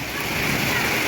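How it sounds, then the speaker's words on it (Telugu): Flood water pours steadily into a house, a continuous rushing and splashing that fills the foreground without pause. "చూసారా వాటర్ వెళ్తున్నాయి వాళ్ళ ఇంట్లోకి."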